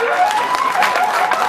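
Crowd applause at a kambala buffalo race in Miyar, rising during a prize announcement: dense, steady clapping and crowd noise across the whole moment, fairly loud, with a faint voice on the loudspeaker blending in.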